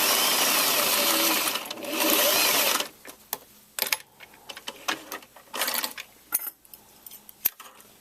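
A sewing machine runs a short continuous burst while stitching a dart in a lace skirt, followed by quieter clicks, taps and brief spurts of handling and sewing.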